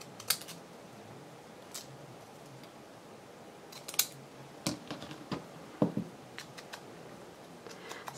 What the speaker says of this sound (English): Try to cut these apart.